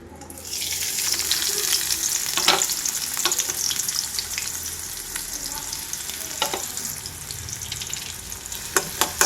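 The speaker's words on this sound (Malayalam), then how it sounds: "ചെറിയുള്ളി ഇട്ട് കൊടുക്കാം" Sliced shallots fry loudly in hot oil in a pan for Ramadan thari kanji, a steady crackling sizzle with a few stirring scrapes, no talking.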